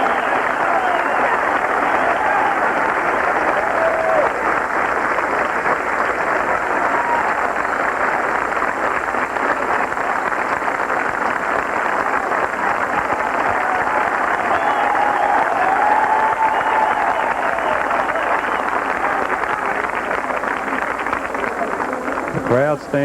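Large golf gallery at the Masters roars with sustained applause and cheering for Jack Nicklaus during the final round, a dense, steady wall of crowd noise lasting throughout at high volume.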